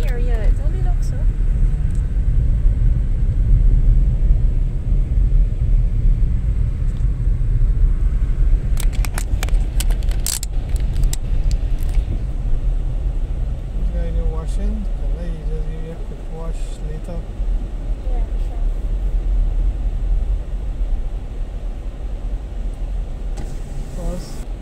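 A vehicle grinds up a hill on a bush road near Kwakwani, Guyana, giving a loud, continuous low engine rumble. Occasional rattles and bumps break through, and voices come and go over it.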